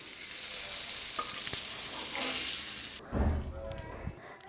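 Fish pieces are half-fried and stirred in hot oil for a Tamil fried fish gravy, with steady crackling sizzle, a few light utensil knocks, and a louder burst of sizzling near the end.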